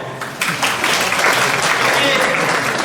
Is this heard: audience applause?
yes